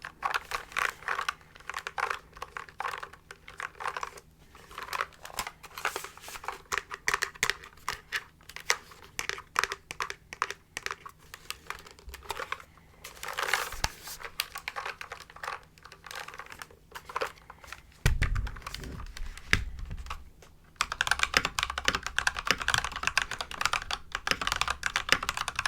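Steady fast typing on a new, stock mechanical keyboard, dense clacking keystrokes close up and fairly quiet, with a brief rustle and heavier thumps near the end.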